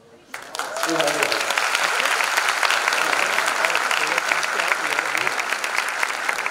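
Loud, dense applause from a crowd that has filled a restaurant event hall, swelling in just after a brief quiet opening and holding steady to the end.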